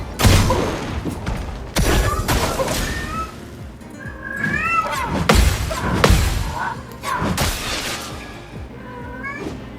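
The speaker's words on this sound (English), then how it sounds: "That cat is so loud" A small house cat meows loudly several times in the background, with rising, drawn-out cries breaking through busy video game sounds, thuds and crashes during a stream.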